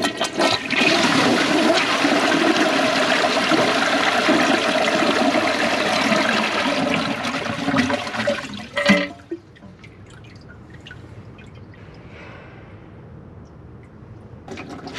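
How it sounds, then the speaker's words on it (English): Kohler Wellworth Class 5 toilet from 2015 flushing with the handle held down: a loud, steady rushing of water for about nine seconds, then a sudden drop to quiet trickling and tank refilling. "here's a flush, but I'm going to hold the handle down and see how long it flushes."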